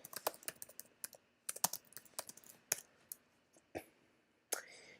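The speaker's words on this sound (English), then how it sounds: "if I type that into Google" Fast bursts of keystrokes on a computer keyboard as a web search is typed, irregular clusters of crisp clicks with short pauses, close and fairly quiet with no talk.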